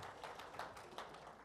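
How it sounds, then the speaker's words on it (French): Faint, brief clapping from an audience, a handful of soft claps over about a second and a half, distant and low in level. "Oui, bravo, on peut l'applaudir."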